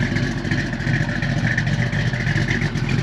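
A numbers-matching 1970 Chevrolet Camaro 396SS with its L34 396 V8 running steadily, a loud, close, continuous rumbling drone with a slight uneven throb and no talk over it.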